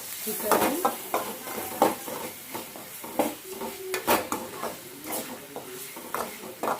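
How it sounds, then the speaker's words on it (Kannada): Chicken frying in a pan is stirred with a utensil, producing repeated close scraping clatters over a continuous sizzle, quick irregular strokes from start to finish with a faint voice in the background. "ಇನ್ನೂ ಚೆನ್ನಾಗಿ ಮಿಕ್ಸ್ ಮಾಡೋಣ ಅದನ್ನು ಫ್ರೈ ಮಾಡಿ ನೋಡಿ"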